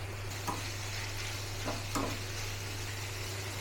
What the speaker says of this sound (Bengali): তেলের ভেতরে পেঁয়াজ রসুনটা ছেড়ে দিলাম, নাড়াচাড়া করতে করতে এর মধ্যে ক্যাপসিকামও ছেড়ে দিলাম